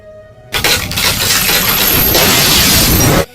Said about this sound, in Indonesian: Kemudian tiba-tiba kaca pun pecah